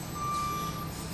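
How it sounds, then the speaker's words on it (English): Reversing beeps from a truck, a steady persistent tone repeating without pause over low background rumble, fairly close and continuous. "That beeping sound's not going away, is it?"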